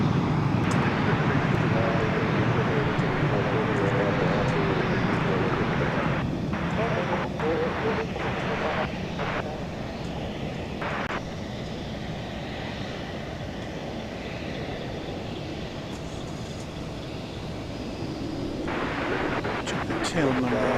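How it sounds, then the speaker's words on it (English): A Boeing 767 airliner pulls out at DFW Airport at night, its engines making a loud, continuous roar and whine that holds for the whole stretch, with a few brief clicks and knocks over it. "As you see there, 767 pulling out."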